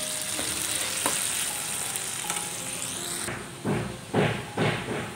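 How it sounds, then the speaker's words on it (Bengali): Tomatoes frying with dry spices in a pan for an egg tarka, a steady close sizzle with light stirring early on, then several louder thumps and scrapes toward the end. "একটু ভাজতে হবে আর একটু ভাজতে হবে টমেটোটা"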